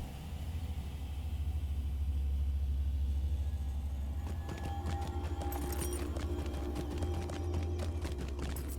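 Goat mount hoofbeats in the online game Lord of the Rings Online, a quick run of rapid clopping steps starting midway over a low ambient drone, moderately close and quiet, with no speech.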